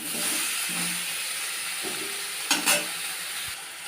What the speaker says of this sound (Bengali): বেগুন আলুটা সুন্দর করে ভাজা হয়ে গেছে, লাল লাল করে দেখো নুন হলুদ দিয়ে লাল লাল করে ভেজে নিচ্ছি